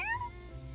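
A short synthetic cat meow from the pillow cat in the visual novel The Fruit of Grisaia, a single soft descending mew heard alone.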